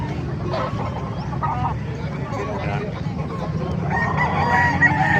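Roosters and chickens at a poultry market in Bocaue, Bulacan, clucking and crowing amid a steady crowd hubbub, with louder bird calls rising near the end and people talking throughout.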